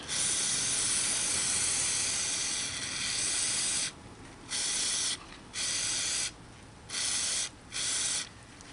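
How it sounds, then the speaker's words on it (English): An aerosol can of brake cleaner sprays onto a differential seal in a long hiss, then several shorter bursts with brief pauses between, close and loud. "Spray a bit of brake clean on it."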